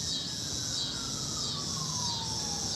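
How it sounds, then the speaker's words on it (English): A wailing fire truck siren rises and falls steadily in the distance, over a constant background hiss, with no voices. "Now they're starting a fire truck siren."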